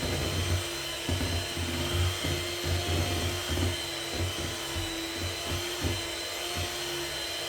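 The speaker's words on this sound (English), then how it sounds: "You don't need any fancy stand mixers, I just use a wee hand mixer." A small electric hand mixer whisks pavlova meringue with corn flour, vanilla extract and white wine vinegar, giving a steady whirring drone that wavers and pulses rhythmically as the beaters move through the bowl, close and fairly loud throughout.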